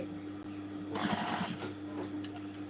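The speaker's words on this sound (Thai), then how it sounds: "เย็บกระเป๋าจ้า" A sewing machine stitches a bag, running in a steady rapid mechanical whir that speeds up slightly, close and fairly quiet with no talk.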